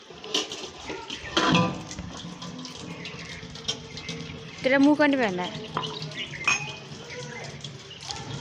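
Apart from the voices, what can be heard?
washing dishes with running water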